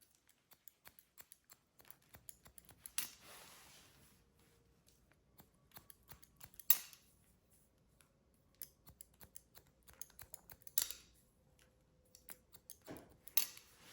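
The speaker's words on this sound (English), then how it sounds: "and then the top, just point cut this way" Scissors snip in short bursts while point cutting the top and sides of a soft pixie haircut, with several sharp clusters of close, crisp cuts between quieter pauses.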